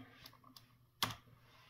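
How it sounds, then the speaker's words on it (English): A few faint clicks of typing on a computer keyboard, quiet and close, with a slightly louder final keystroke like a press of the enter key. "We have to type in less"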